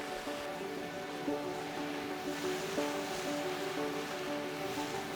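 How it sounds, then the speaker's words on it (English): Waves break against the rugged Na'pali Coast of Kauai, a steady roaring wash under the constant drone of a nearby boat engine. "You also hear the sound of waves crashing against the rugged coastline"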